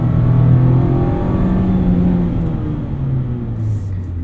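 A 2024 Mazda MX-5 Miata Club engine heard from inside while driving, a loud steady low drone that rises and falls through revs and shifts, with no voices.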